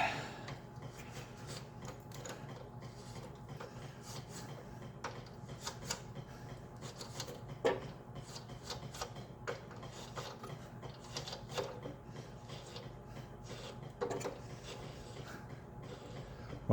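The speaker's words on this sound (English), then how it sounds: "Just kind of cleaning up the threads." A 3/4 inch, 16 threads-per-inch thread on an 8N Ford tractor steering linkage being cleaned up with a die, giving a steady, close, low mechanical grinding and ratcheting with small clicks throughout and no talk.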